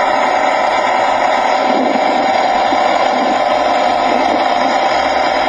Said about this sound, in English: this Ford 6000 tractor, automatic. She runs and drives great.